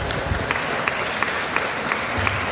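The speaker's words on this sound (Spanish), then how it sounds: "Démosle un aplauso al Señor." Steady applause from a church conference crowd, continuous clapping with scattered sharper claps throughout, fairly loud and without talk.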